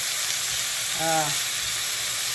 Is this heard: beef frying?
yes